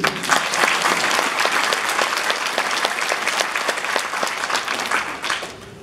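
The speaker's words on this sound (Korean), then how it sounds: "이런 어머니한테는 여러분들도 박수 한번 보내주세요." Audience at a lecture bursts into steady, sustained applause, a dense wash of many hands clapping close and loud that tapers off at the end.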